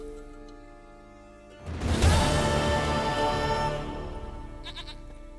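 A goat in The Witcher 3 lets out a loud, sustained bleat that swells in and holds for a couple of seconds before fading, with faint game ambience around it.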